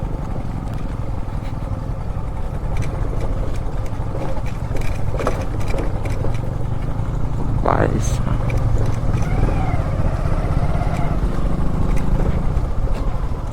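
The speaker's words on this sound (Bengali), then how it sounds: "বাইক চালাচ্ছি" A motorcycle engine drones steadily with constant road and wind rumble on a road trip from Tripura to Meghalaya, voices talking over it throughout.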